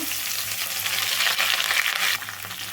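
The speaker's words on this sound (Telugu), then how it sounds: "ఉల్లిపాయలు అయితే మంచిగా వేగాలండి పచ్చివాసన లేకపోతే లేకుండా మంచిగా వేగాలి" Chopped onions, green chillies and curry leaves fry in hot tempering oil, giving a loud, dense, continuous sizzle and crackle close up, with a slight change in texture near the end.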